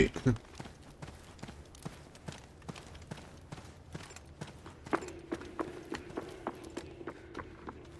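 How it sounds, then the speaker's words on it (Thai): Footsteps in Delta Force thud in a steady, quick rhythm, close and fairly faint, with a brief louder hit at the start. "ได้ยินเสียงฝีเท้า"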